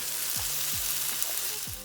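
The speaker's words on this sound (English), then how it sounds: "I have the onions and tomatoes sizzling" Steady frying sizzle from onions and tomatoes in a hot pan, with a few soft scraping stirs, close and continuous with no talking.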